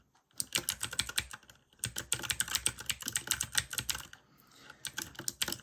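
An external keyboard hooked up to an Astrohaus Freewrite is typed on in quick, dense bursts of clacking keystrokes, with a brief pause early on and a quieter lull near the end, close and clear with no talking.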